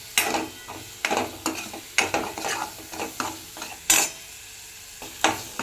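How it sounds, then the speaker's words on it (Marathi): Masala sautéing in oil while a spoon stirs it around the pan, each stroke a sharp scrape or clink against the metal roughly once a second over a soft, steady sizzle, close and clear. "सगळं परत हलवायचं चांगलं परतून घ्यायचा मसाला"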